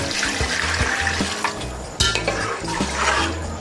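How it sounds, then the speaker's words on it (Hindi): Water splashes into a cooking pot holding beaten yogurt over high heat for beef kabab biryani. A close, continuous watery rush mixes with small metallic clinks of the pan, swelling again midway. "अब हम इसके अंदर पानी डालेंगे"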